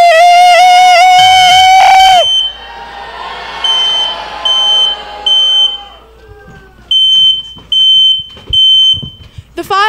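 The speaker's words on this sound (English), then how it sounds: "the fire alarm has been activated." A fire alarm going off indoors: a loud sustained tone at first, then a run of sharp, repeated electronic beeps in short bursts, close and piercing, with no talking over it.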